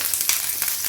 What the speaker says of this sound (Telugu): ఈ పోపు వేగిపోయింది కదా